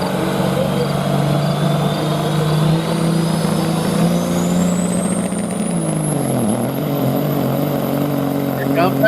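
An International tractor roars hard and close during a tractor pull, its engine note climbing steadily and then dropping. An announcer talks over the noise.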